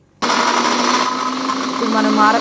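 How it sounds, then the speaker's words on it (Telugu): An electric mixer grinder blends chili pickle with a spoonful of fenugreek powder, starting abruptly and then running as a steady, loud whirring grind that continues without pause to the end. "మెత్తగా మిక్సీ పట్టేసుకొని"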